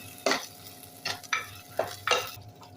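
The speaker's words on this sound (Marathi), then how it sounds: "मॅरिनेट केलेली कोलंबी घालूया छान परतून घेऊया" Marinated prawns being sautéed in a pot for kolambi khichdi, with a spoon scraping and stirring in several distinct bursts over a steady low sizzle, close and alone.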